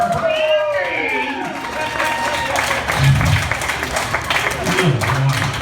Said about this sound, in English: Let's have a round of applause for Brandy.